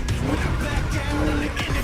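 A V8 car engine racing in The Crew Motorfest game, roaring loud and steady throughout, with tire squeal mixed in and a voice speaking over it.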